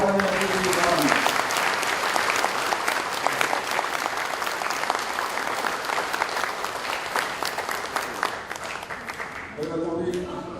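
A hall audience at a Korean national-salvation forum event applauds to welcome the introduced guests, a broad sustained wash of clapping over ten seconds, with a voice speaking briefly at the start and end.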